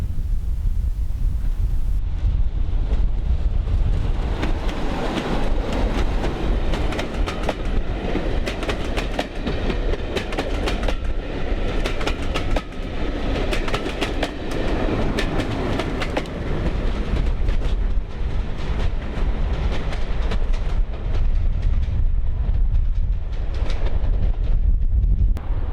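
Double-headed diesel train with Class 33 and Class 14 locomotives crossing a viaduct over the River Roch at a heritage railway diesel gala, a loud sustained engine drone with rhythmic wheel clatter rolling past close by, wind buffeting the microphone.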